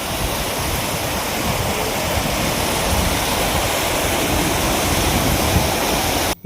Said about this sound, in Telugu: ఇంకా కూడా ఈ మత్తడి దుక్కుతూనే ఉంది ఇది మానేరు వాటర్